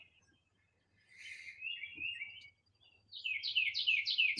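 Birds chirp in short, bright bursts against a quiet background, a few thin calls first, then a louder flurry of tweets toward the end.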